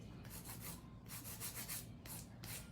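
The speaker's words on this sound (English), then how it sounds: "I'm using my hand file" A hand file rasps back and forth over acrylic nails in rhythmic bursts of scratchy strokes, close and quiet, with brief pauses between passes.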